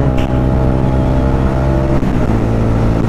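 Motorcycle riding along a road near Saint-Jean-Pied-de-Port, its engine droning loud and close in a steady, even hum with a slight shift partway through, no voices.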